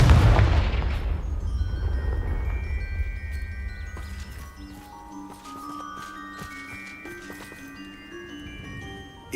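A Confringo blasting curse goes off in Hogwarts Legacy as one loud, close explosive boom with a deep rumble, then fades into quieter game ambience with soft tonal music and small clicks.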